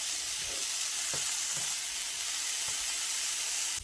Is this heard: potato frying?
yes